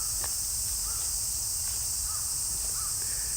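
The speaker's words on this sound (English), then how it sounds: "the cicadas are healthy. They're everywhere. Buzzing, making noise." A steady, shrill drone of cicadas in Tokyo, Japan fills the air without a break, with a few faint bird calls in the distance.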